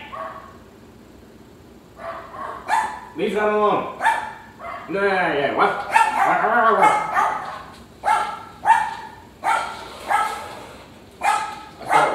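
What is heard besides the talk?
dogs barking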